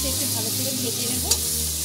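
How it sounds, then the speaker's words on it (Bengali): Onion fries in hot oil with panch phoron for a fish curry, a loud steady sizzle close up with a short stirring clink near the end and faint voice-like tones beneath. "পেঁয়াজটা একটু ভালো করে ভেজে নেব।"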